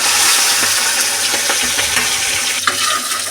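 Pieces of rui fish fry in hot oil with a loud, continuous crackling sizzle as they are turned to the other side, and the spatter shifts briefly midway through.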